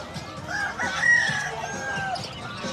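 A fighting rooster crows at the Bocaue animal market, a drawn-out, harmonic call heard moderately close over steady market hubbub and background chatter.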